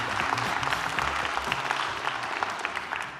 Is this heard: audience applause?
yes